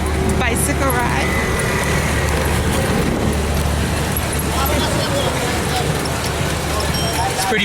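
Busy street ambience at Dam Square in Amsterdam: a steady, loud wash of road traffic and crowd bustle with a low rumble, continuing without a break.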